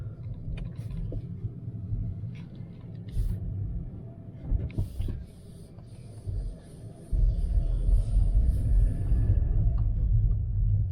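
A car being driven with its clutch and gears engaging: a steady low engine rumble that dips and swells as gears change, growing louder and fuller in the last few seconds, with no talk.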